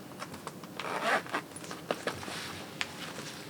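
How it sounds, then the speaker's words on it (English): A zipper is pulled up on red thigh-high heel boots, a series of short scraping zips in quick bursts, close and fairly soft with small handling noises between them. "And then I'll start doing the zipper up."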